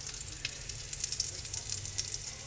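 Steaks seasoned with steak seasoning and onion powder sizzle in a hot cast iron pan, a bright, steady hiss with crackling spits, close and continuous, no voices.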